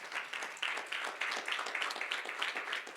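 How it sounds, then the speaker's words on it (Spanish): A church congregation applauding during a Sunday service, dense overlapping clapping that pulses in waves, fairly distant and moderately quiet, with no talk over it. "un aplauso fuerte también"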